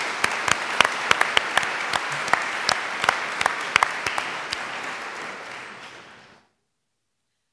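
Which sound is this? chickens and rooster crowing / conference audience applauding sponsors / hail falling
conference audience applauding sponsors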